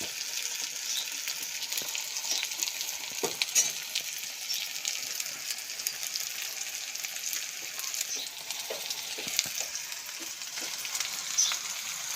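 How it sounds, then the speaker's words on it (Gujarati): Greens are tempered in hot oil, giving a steady, close, continuous sizzle and crackle with a few louder pops, heard alone without any talking. "આપણે ભાજી વઘારવાનું વારું આવ્યો છે."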